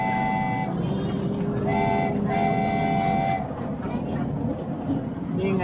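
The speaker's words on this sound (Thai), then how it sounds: "รถไฟจะออกแล้วครับ ออกตัวไปเลยรถไฟนิวเลนะครับ" A train horn sounds in several sustained blasts over a steady rumble of rail noise as a train departs Suan Phueng, with people talking nearby.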